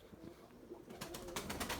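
Tumbler pigeons in a loft coo faintly with low murmuring calls, joined by soft rustling and quick fluttering bursts toward the end.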